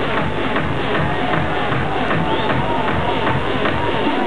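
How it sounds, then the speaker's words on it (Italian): A packed nightclub crowd at a hard dance night claps and shouts in a loud, dense wash of applause and voices that carries on steadily without a break. "Un applauso, grazie!"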